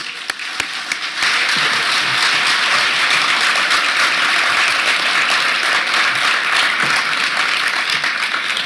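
A convention hall audience at the Alberta Municipalities Fall Convention breaks into loud, sustained applause welcoming Rachel Notley, dense steady clapping rising after a quieter first second.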